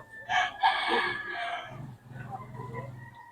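A young rooster (stag) crows once at a farm, loud and close, its call breaking off after about a second and a half, with low murmuring voices and background noise continuing afterward.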